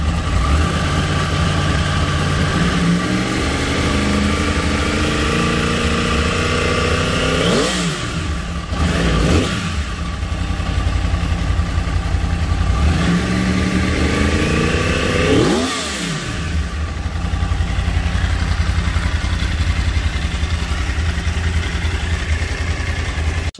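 A 2012 Yamaha R1 sport motorcycle idles loudly up close, its engine swelling in two quick throttle revs that rise and fall back to a steady idle.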